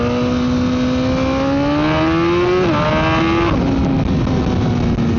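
A motorcycle engine revs up through rising pitch, drops back briefly and climbs again before settling, loud and close with no talking.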